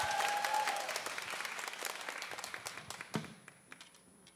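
A live audience at a talk concert claps in warm applause that starts full and gradually thins out into a few scattered claps.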